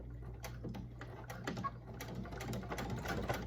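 A domestic sewing machine running at a lowered stitch length punches through wallet material in a steady rapid ticking, close and moderately loud, with a few sharper clicks and pauses between bursts.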